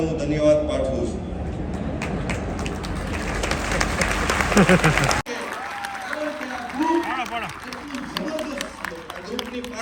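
Audience at a motivational talk breaking into loud, sustained applause that cuts off abruptly midway, followed by a voice speaking over quieter room murmur.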